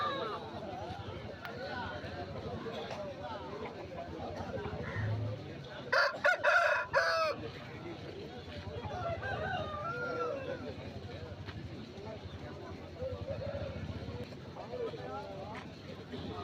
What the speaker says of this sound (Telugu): వీడియోలో కనిపిస్తుంది కాకిడేగ పుంజు